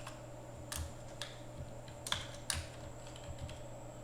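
A computer keyboard is typed on while CSS code is written, giving a few faint, scattered keystrokes and clicks at an irregular pace over a steady low hum.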